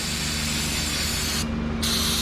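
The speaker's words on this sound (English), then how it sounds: "get yourself a can of brake clean, spray down that oil filter" A steady, loud hiss of aerosol brake cleaner sprayed on an Acura TSX oil filter runs continuously, briefly dipping in the highs before resuming, with a low mechanical hum beneath.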